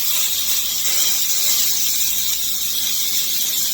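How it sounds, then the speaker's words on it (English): Meat searing in a hot pan for birria tacos gives a steady, loud hiss and sizzle that runs unbroken and alone. "Start getting these seared."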